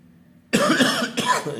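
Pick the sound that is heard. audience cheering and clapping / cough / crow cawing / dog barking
cough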